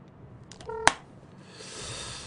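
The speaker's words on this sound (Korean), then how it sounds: "맥힘이 전화 한번 해보자." A telephone being dialed, giving a quick run of a few short keypad tones followed by one sharp tone, then a faint hiss, with no talking.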